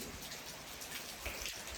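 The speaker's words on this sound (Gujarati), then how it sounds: "જોઈ કેવો જોરદાર વરસાદ છો ભાઈ વાવણીનો વરસાદ" Steady heavy monsoon sowing-season rain in Kutiyana, Gujarat, hisses and patters without a break, a dense, even wash of falling water heard from a little distance.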